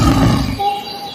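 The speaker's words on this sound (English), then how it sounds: "Lion," A lion gives a single short, loud, rough roar that cuts off after about half a second.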